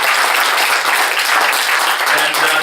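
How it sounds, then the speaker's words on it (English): Dense applause from an audience at a yacht club sailing safety event, thanking the title sponsor Navis; steady, loud clapping fills the whole moment without pause. "So a quick round of applause for Navis,"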